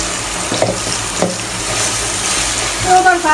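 Sylheti lata stems hit hot oil in a pan, giving a close, steady frying sizzle with a couple of soft stirring knocks and a brief clink near the end.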